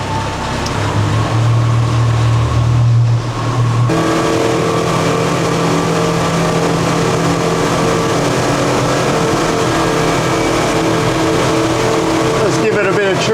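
Outboard boat engines on a Seaking 770W run hard at about 5,000 RPM, a loud steady drone with wind and water rush throughout. A lower tone drops away near the four-second mark.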